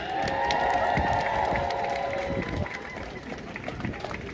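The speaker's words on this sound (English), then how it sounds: "Big shout out and round of applause for Sister Rabina!" A crowd at a pro-Palestinian street protest in Leeds claps and cheers, a loud burst of whooping and applause outdoors that settles into scattered clapping, with voices mixed in.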